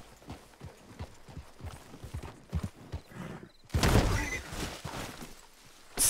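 Horse hooves clip-clop steadily in Red Dead Redemption 2, a loud run of close, even hoofbeats that swells into a louder, busier stretch near the end.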